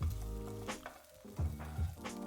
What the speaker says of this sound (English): I'm just gonna saute with some black pepper